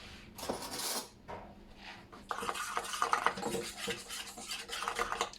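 Flour seasoned with pepper and salt is stirred in a bowl, soft scraping and clinking of a utensil against the dish, close and quiet, with a brief pause before steadier mixing.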